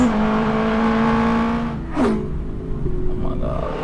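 A Porsche 963 RSP hybrid race car, built as a road car, revs hard in a steady high engine drone, with one sharp sweeping rise and fall of pitch partway through, while people react over it.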